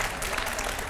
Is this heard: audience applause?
yes